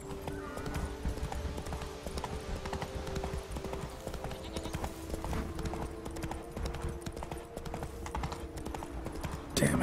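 Roach, the horse in The Witcher 3, gallops in a steady rapid clip-clop of hooves that carries through the whole stretch, with a brief whinny and game ambience beneath.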